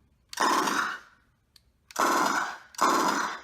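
An E-11 blaster prop fitted with a BlasterCore 4.0 sound board, set to four-round burst, fires three loud synthetic bursts, the first longer, separated by short silences with a faint click between them.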